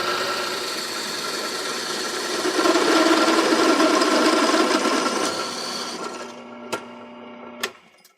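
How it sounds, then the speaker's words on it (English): A continuous mechanical whir with a metallic rattle from a loose metal cover on a running machine, swelling louder in the middle and then winding down, followed by two sharp knocks near the end. "What you hear rattling is just the metal cover"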